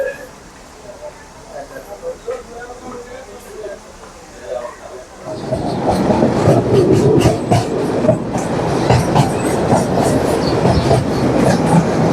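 A Dhaka to Narayanganj commuter train runs past, starting as a quieter rumble with faint talk and then swelling after a few seconds into a loud, steady roar of wheels and clatter that holds to the end.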